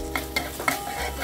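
Ginger garlic paste sizzles in hot oil with onions while a utensil stirs the pan, giving a steady frying hiss broken by three or four quick scraping strokes, close and fairly quiet.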